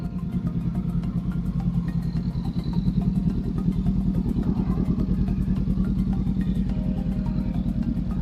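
A red Honda CBR 500R motorcycle engine holds steady revs around 4,000 rpm, a loud, close, continuous throbbing drone with an even pulse that swells slightly partway through, with no talking.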